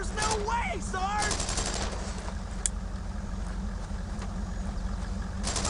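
Rifle and machine-gun fire in the WWII game Brothers in Arms: Road to Hill 30, several sharp bursts early on against a constant low rumble, with shouted soldier voices over the first seconds.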